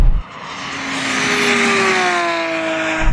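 A Tesla and a Ferrari drag race to the half mile, the cars' roar building into a loud, sustained high-speed whine with rising tones that swells and then slowly fades, no talking.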